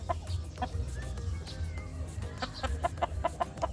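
Kelso broodcock rooster clucking at a farm, soft repeated short clucks over low background rumble and a little chatter, fairly faint.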